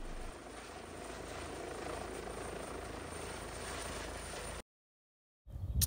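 EC145 helicopter near a landing area, a steady loud rotor and turbine roar held constant for several seconds, then cutting abruptly to silence before another burst of noise returns.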